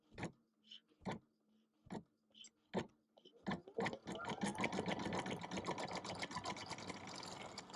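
An embroidery machine stitching appliqué starts with slow, evenly spaced single needle strokes, then speeds into a fast continuous rhythmic whir of stitching, close and clear.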